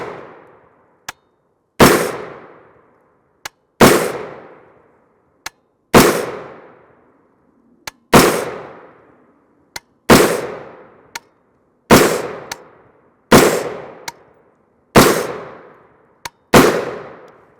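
A 300 Blackout rifle, a 7.5-inch PSA build with a 1-in-7 twist firing 110-grain V-MAX rounds, fires a slow string of about eight loud, sharp shots roughly two seconds apart, with fainter clicks between them.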